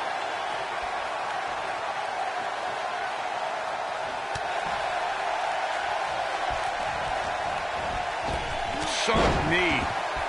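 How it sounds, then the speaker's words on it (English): A suplex slam in a TLC match of a wrestling video game lands as a heavy thud near the end, following a long stretch of steady crowd noise and commentary-style talk. "And look at that. Suplex."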